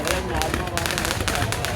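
Fireworks go off in a park during a New Year celebration, a dense run of crackling bursts and pops over constant crowd noise and chatter.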